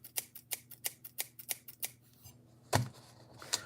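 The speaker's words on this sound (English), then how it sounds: "I can say right now that this is a scissors" Scissors are handled and snipped in a quick run of about ten sharp, close, rhythmic clicks, followed by a pause and then two louder separate snaps.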